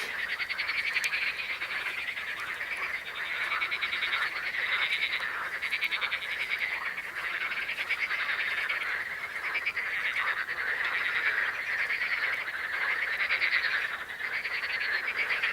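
Frogs croaking in a French countryside night chorus, a loud, dense and continuous wall of rapid overlapping croaks that pulses steadily throughout with no talking.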